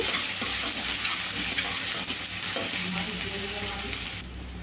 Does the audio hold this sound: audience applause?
no